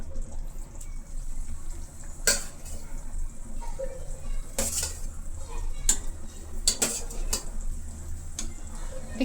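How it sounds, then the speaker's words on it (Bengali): Fried eggs being stirred into a simmering potato curry in a metal pan, with repeated clinks and scrapes of a spoon against the pan over a soft bubbling background. "একটু নেড়ে নিচ্ছি ডিমগুলো দিয়ে।"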